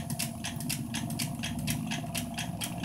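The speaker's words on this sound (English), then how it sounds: "And the clicking you hear is every revolution." A foot-pedal-spun magnetron charger gives a rapid, steady train of sharp clicks, one per revolution, repeating evenly over a low mechanical whir.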